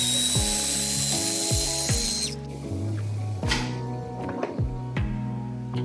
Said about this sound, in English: And now I'm going to blend it.